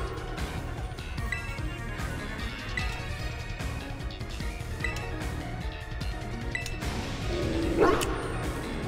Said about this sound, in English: Damn, the bass in that dog's voice.